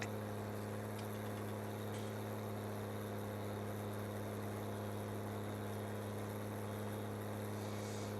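Tractor engine in a farming video game, a low steady idling drone with a constant mechanical hum and no change in pitch, running alone without talk.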